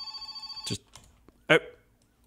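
A telephone ringing inside the video game My Summer Car, a rapid repeating electronic bell trill at the start, then brief louder bursts with someone speaking at moments, all fairly quiet.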